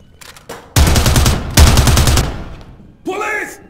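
Gunfire in the police-station shooter game Zero Hour: loud, dense bursts of rapid shots in two clusters, followed by a shouted voice near the end.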